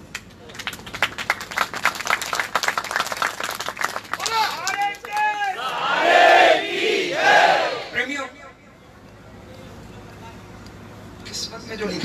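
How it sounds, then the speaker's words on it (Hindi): A crowd on a Nishan Yatra pilgrimage from Kolkata to Khatu Dham claps in a fast rhythmic burst, then erupts into loud cheering and shouting voices, before settling into quieter background murmur. "शाम के लिए तालियां बजाओगे"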